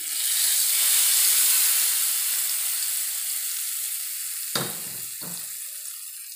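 Hot tempering poured over Kerala-style mango curry (mango vaattiyathu) gives a loud, steady frying sizzle that slowly fades, followed near the end by two brief low thumps of handling.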